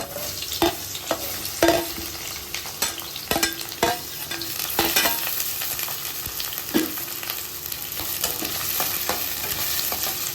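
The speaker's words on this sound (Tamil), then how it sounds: "ஒரு கடாய் வச்சுருக்கேன் எண்ணெய் நிறையா ஊற்றி வச்சுருக்கேன் இப்போ வந்து அதில் வெங்காயத்தை வந்து போட்டு சேர்க்க போகிறேன்" Onions frying in plenty of oil in a kadai, a steady sizzle with repeated sharp stirring and scraping clanks near the pan, continuous throughout with no voices.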